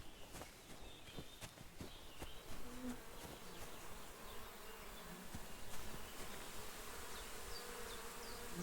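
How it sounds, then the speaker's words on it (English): Bees buzz steadily in the video game Kingdom Come: Deliverance II, a faint continuous drone that holds through the whole stretch, with light footsteps and soft clicks over it. "Lots of bees."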